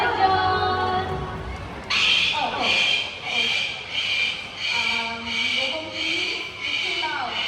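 A large pet parrot kept at a bird park screeches loudly in a rapid series of about seven harsh, evenly spaced calls, close and piercing, following a lower squawk at the start.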